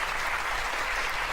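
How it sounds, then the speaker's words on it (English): An audience at a Frack Attack show gives a steady round of applause: dense, continuous hand-clapping that fills the whole short stretch at an even level with no voices. "Round of applause."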